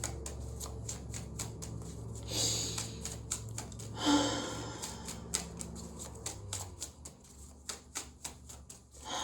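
Fountain Tarot cards shuffled by hand in a quiet room, a steady run of crisp riffling clicks and soft slaps with a few louder bursts as cards are cut and drawn, close and alone.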